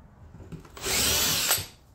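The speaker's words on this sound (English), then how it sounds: "I'm just going to use this 3/8 to drill out that little rim." A power drill with a 3/8 bit whirs up and grinds into a metal rim on a Willys inner door latch for about a second, loud and close, then winds down.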